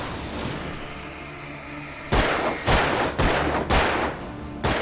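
Gunshots ring out in Alan Wake as five loud, sharp reports fire at uneven intervals after a stretch of quieter ambient hum.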